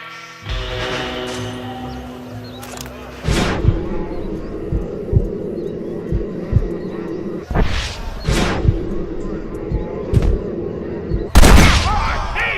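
Revolver and rifle gunshots in the Western game Red Dead Redemption ring out in sharp, loud bursts spaced several seconds apart over a low tense music bed, with a couple of shots fired in quick succession near the end.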